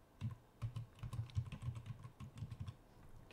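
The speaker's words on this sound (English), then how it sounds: "So just put in a password." Someone types a password on a computer keyboard, a quick run of soft, close key clicks in an irregular rhythm, fairly quiet, then stopping.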